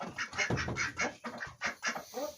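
Farm birds, a rooster alongside a duck, call out in a run of rapid, nasal quacking honks heard close and fairly loud, the calls coming in quick bursts one after another with no talking.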